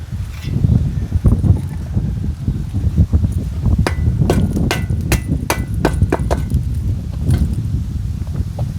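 A hammer knocks wooden formwork boards off freshly poured concrete flooring on a building site, with irregular sharp taps and bursts of strikes close by over a steady outdoor rumble.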